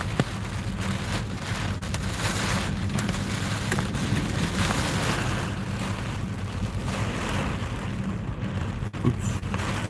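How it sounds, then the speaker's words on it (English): Heavy rain in an Arkansas thunderstorm, a dense, loud, continuous roar of drops drumming on a surface, steady for ten seconds with no talk. "I'm just going to do quiet rain videos. Although this one's not so quiet,"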